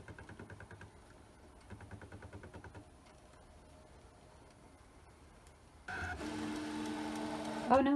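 A Brother ScanNCut SDX125e cutting craft foam gives quiet rhythmic pulsing motor bursts and soft mechanical movement, then a sudden louder whirring buzz of carriage motors in the last seconds, with a voice briefly audible.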